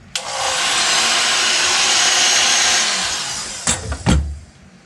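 A hair dryer blows warm air over freshly applied paint, a steady, loud whooshing hiss lasting about three seconds before it winds down, followed by a couple of brief knocks.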